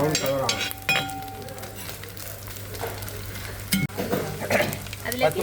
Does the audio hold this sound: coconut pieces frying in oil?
yes